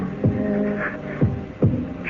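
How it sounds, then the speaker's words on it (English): A heartbeat effect in a radio drama thumps three times, low and soft, at uneven spacing over a steady background hum. "It's not her heart that's beating. It's mine. It's my heart."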